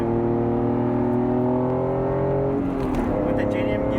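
A Honda NSX with JDM gearing cruising in second gear on a back road, a loud steady engine drone with strong tonal hum that shifts slightly near the end, continuous and close.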